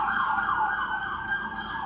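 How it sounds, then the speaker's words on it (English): Emergency vehicle siren wailing loudly and continuously, a steady high-pitched tone with a slight wavering rise and fall, heard alone. "When you hear that siren,"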